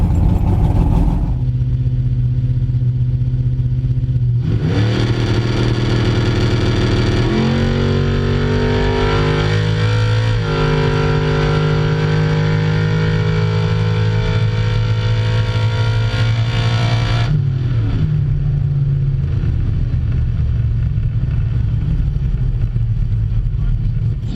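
A drag racing car runs at Benaraby, its engine droning and climbing through gear changes with loud, harmonic revving before the note drops away toward the end.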